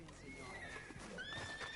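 Horse in the video game Red Dead Redemption 2 giving a high, wavering whinny that rises and falls, moderately loud over a steady game background with faint hoof movement.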